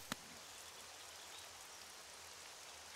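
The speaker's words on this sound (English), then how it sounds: "now that it's raining" Steady, soft rain hiss fills the scene in the survival game 7 Days To Die, a continuous even wash of falling drops with one faint click near the start.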